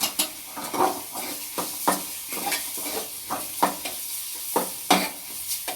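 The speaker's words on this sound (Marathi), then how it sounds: "हा कुट्टासुद्धा थोडंसं आपल्याला असं शेंगदाण्याच्या तेलामध्ये असं मिक्स करून घ्यायचा." Peanut crumble and chillies stirred into hot peanut oil in a pan, a steady sizzle broken by repeated scraping strokes of a spoon against the metal, close and fairly loud with no talking.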